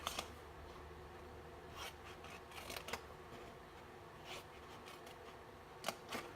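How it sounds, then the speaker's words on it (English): Scissors snip through scored gift-box paper in a few sharp, close cuts, with soft paper rustling and handling between them and no talking. "let's cut up on these other score lines up to that 1¼ inch score, just like this, and turn it around"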